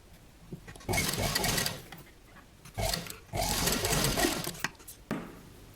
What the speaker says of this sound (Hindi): तो हम बस यहाँ पर इसको सिलाई लगा लेंगे दोनों साइड